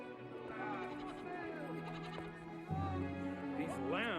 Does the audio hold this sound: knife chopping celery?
no